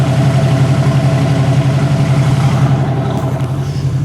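Close, loud idle of a Ford truck engine running through a new tailpipe with mufflers, a constant low rhythmic burble that eases off slightly toward the end, with no speech.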